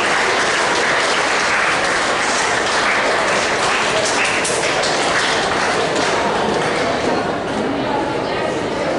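Applause at a school awards ceremony, dense continuous clapping from a crowd that lasts throughout, with voices talking underneath.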